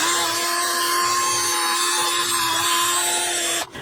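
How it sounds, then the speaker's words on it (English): A steady, high-pitched power tool whine runs continuously, a wire brush spinning on a drill grinding on metal during an Acura MDX front brake job, loud and close, cutting off abruptly at the end. "Just this little wire brush on a drill works pretty well."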